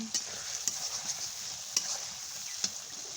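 Spices and garlic frying in a pan for a chicken leg bhuna, a steady close sizzle with a few sharp clicks of a spoon stirring through it, no voices.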